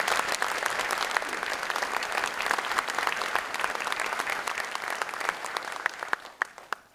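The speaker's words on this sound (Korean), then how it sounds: "제가 부탁드렸는데 박수 안 치십니까?" An audience at a Korean justice minister's inauguration ceremony applauds, with a long, steady burst of clapping that thins out and fades near the end, without any talk over it.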